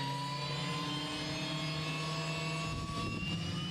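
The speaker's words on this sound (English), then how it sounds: "Meet the pride and joy of Hogbirds Aviation, a fully restored Vietnam Scout helicopter" Restored Vietnam-era scout helicopter from 1969 flying, a steady turbine whine with tonal harmonics and rotor rumble, continuous and fairly loud with slight pitch drift.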